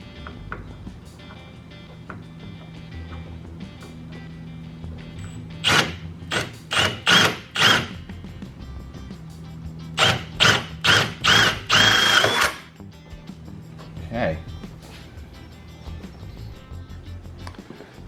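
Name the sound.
drilling a hole with 5/16 drill bit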